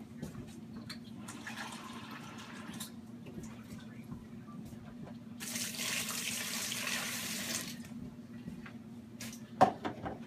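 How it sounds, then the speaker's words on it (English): Water poured into a can cooker for a fish dinner, with beer already inside: a steady splashing fill that swells louder midway, then ends with a brief clunk near the close. "we're going to add a little bit of water"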